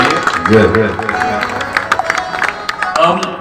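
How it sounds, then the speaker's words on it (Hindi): An audience at a Hindu religious katha ceremony in Sultanpur breaks into clapping and applause, with scattered sharp claps mixed with voices talking over the crowd. "जोरदार ताली बजाइए।"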